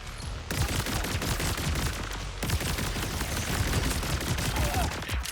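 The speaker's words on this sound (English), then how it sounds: "Stop firing rockets at me" Sustained enemy gunfire and rocket blasts in Borderlands 4 combat: dense rapid automatic fire rattles loudly and continuously for several seconds, with only a brief break partway through.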